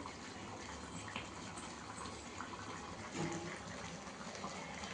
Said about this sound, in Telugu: ఒక చెంబు వాటర్ పోసాను మళ్ళా